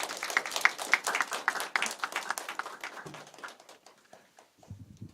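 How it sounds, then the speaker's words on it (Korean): A church congregation applauds during a Sunday worship service. Lively, dense clapping fills the first few seconds, then thins and fades away, and low voices come in near the end. "우리 힘내 하는 박수"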